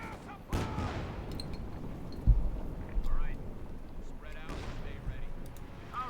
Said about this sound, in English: Can equip them also with a set of Browning light machine guns.